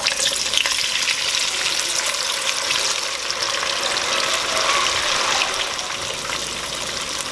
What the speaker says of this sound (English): let's move over this way and fry some fish